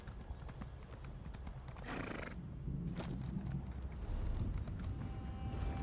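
A horse in The Elder Scrolls Online video game runs with rhythmic clip-clop hoofbeats and a brief whinny, its steady footfalls building in loudness and with no talk.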